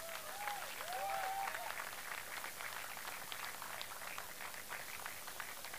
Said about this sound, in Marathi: तर एकदा दोन्ही ज्या टीम फायनलमध्ये खेळल्या त्यांच्यासाठी एकदा जोरदार टाळ्या.